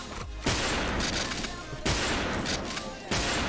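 Sniper and rifle gunshots in the shooter game Wolfteam crack out in three loud, sharp reports spaced about a second and a half apart, each followed by a short ringing decay over a busy game background.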